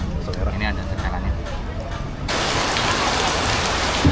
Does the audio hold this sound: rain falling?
yes